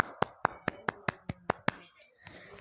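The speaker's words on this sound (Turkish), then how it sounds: "Bir alkış alaq." About eight sharp claps ring out in an even, quick rhythm, close and crisp, from a lone pair of hands rather than a crowd, then fade to quiet with faint noise.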